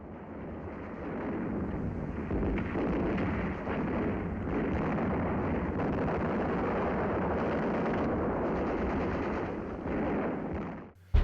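Explosive charge blasting a breach in a casemate of the Eben-Emael fortress, May 1940: a sustained, roaring rumble of blasts with rough, wind-like noise throughout, ending in a sudden sharp burst.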